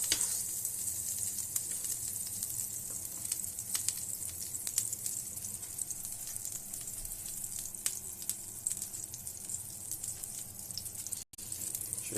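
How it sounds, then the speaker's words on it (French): Butter melts in a sauté pan for a fennel tarte tatin, giving a steady, even sizzle with soft crackles that runs close and alone for about twelve seconds. "dans une sauteuse, à ce moment-là, on va faire fondre le beurre."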